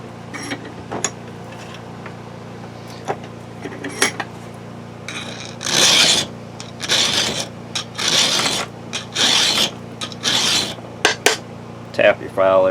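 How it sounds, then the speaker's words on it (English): A hand file sharpens the chain of a Husqvarna 445 chainsaw, with a series of crisp, loud rasping strokes at a steady rhythm, each a short scraping burst, interspersed with light taps and quieter tinkling between strokes. "Now, I'm not sawing back and forth with the file."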